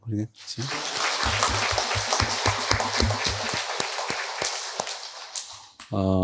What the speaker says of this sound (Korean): 박수로 좀 환영해 드릴까요?